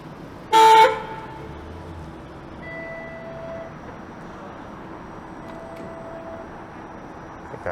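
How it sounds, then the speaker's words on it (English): A Toronto streetcar sounds one short, loud horn blast on a downtown street, followed by quieter traffic hum and a faint tonal whine. "I think that streetcar might have honked at that guy on the e-scooter"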